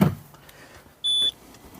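A single high, steady electronic warning beep lasting about a quarter second sounds clearly over the quiet interior background of a red Ferrari.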